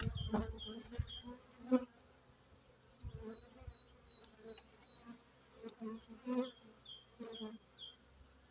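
Honey bees buzz steadily in an opened hive while the colony is being expanded ahead of the acacia flow, a close continuous drone with a few louder passes of individual bees and brief handling knocks.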